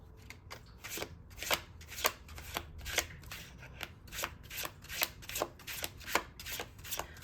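Tarot cards being shuffled close by, a quick run of crisp riffling and slapping bursts repeating steadily, mostly alone with no talk.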